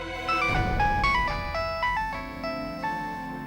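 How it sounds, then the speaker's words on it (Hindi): A mobile phone ringtone plays a bright, repeating melodic phrase in a Hindi courtroom drama scene; loud and close, it cycles several times without pause and no one speaks over it. "अरे उठा ले फोन"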